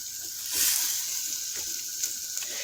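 Onions and ground meat fry in a single pot for cheeseburger mac and cheese, giving a steady close sizzle with a brief louder surge and a few soft stirring clicks, no voices.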